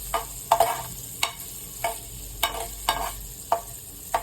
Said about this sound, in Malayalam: നമുക്ക് ഈ ബട്ടറിൽ ഗാർലിക് കുറച്ച് ഇങ്ങനെ ഇങ്ങനെ വഴറ്റിയെടുക്കാം